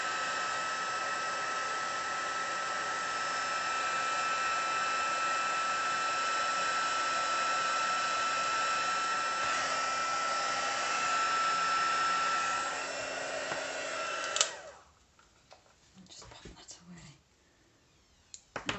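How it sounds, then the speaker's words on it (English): A crafting heat tool sets embossing powder with a steady loud whooshing blow lasting about fourteen seconds, then cuts out, leaving a few soft handling taps. "I'm going to apply some heat and set that embossing powder"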